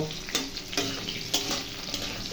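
Onion and cumin seeds fry in white cooking oil, a soft steady sizzle with a few brief stirring scrapes, quiet and without talk.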